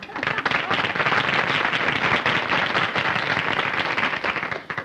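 A television variety show audience breaks into dense, loud applause that carries steadily for several seconds before tapering off at the end, with no talking over it.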